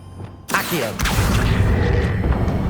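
A single Accio spell in Hogwarts Legacy lands as a sudden loud whooshing boom, followed by a sustained rumbling wash of game ambience.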